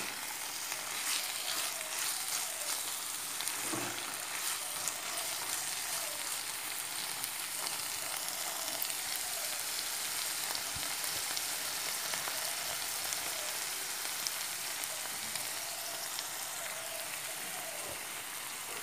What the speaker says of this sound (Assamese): কম ফ্লেমত কেঁচা গোন্ধটো যোৱালৈকে 2-3 মিনিটমান সময় এনেকৈ ভাজি থাকিব লাগিব